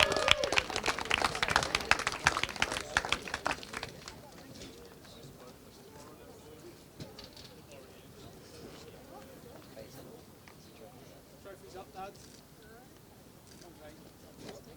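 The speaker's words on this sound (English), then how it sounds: "Huge round of applause, please, for Dan Holland Racing's number 8" A crowd claps for the Saturday final race winner at a British Kart Championships podium at Larkhall; the dense burst of applause lasts about four seconds, then fades into quieter outdoor murmur and scattered voices.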